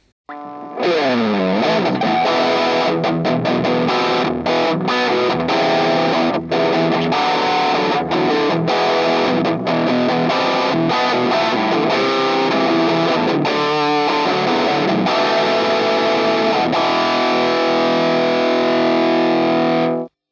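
A heavily distorted electric guitar plays loud, continuous chords and riffs through an amplifier speaker cabinet, dense and saturated throughout.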